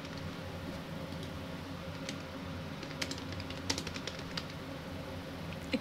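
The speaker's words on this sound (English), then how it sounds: "Ignore my typing." Irregular computer keyboard typing during voice chat on an online game server: soft, scattered key clicks, a few sharper taps, over a steady low hum with no talk.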